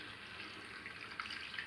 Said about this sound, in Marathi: त्यानंतर मी आता थोडं पाणी घालते